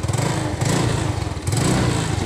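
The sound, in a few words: motorcycle engine running after CDI repair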